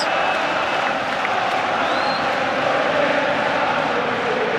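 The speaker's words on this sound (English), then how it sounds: "the Anfield crowd are trying to help Liverpool build up a head of steam here" A steady, dense roar from the Anfield crowd at a Liverpool versus Arsenal Premier League match, loud and continuous with no let-up, and no clear voices standing out.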